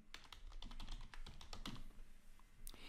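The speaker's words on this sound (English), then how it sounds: "but if I start typing," Fingers type quickly on a computer keyboard, with close, crisp key taps in uneven bursts and a brief pause near the end.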